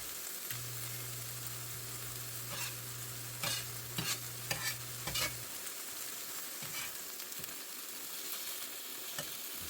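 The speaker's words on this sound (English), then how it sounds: "You can tell it warming back up. You can hear it sizzling more." Steady sizzling of food frying in a hot cast iron skillet on a stove, with a few scraping stirs and a low hum early on, no talking.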